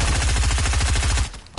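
Rapid gunfire aimed at the player in Fortnite, a loud, close, continuous automatic burst of evenly spaced shots that cuts off abruptly after just over a second.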